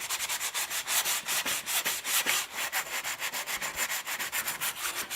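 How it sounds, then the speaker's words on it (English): Rapid back-and-forth sanding scrapes across a dirty portable propane fire pit part, a steady rhythmic rasping stroke pattern, close and loud with no voices. "this thing's really dirty, so I'm gonna sand it down and clean it up"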